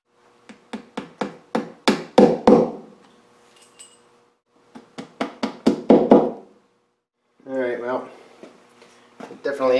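Vinyl seat squab cover for a Triumph Spitfire Mk2/3 being fitted with clips, heard as quick series of sharp, close taps and knocks in rhythmic bursts, followed by a person speaking near the end.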